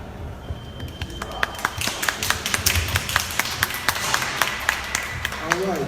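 A small audience claps after a park ranger's talk on Mary McLeod Bethune, with steady, moderately close clapping sustained throughout and voices murmuring underneath.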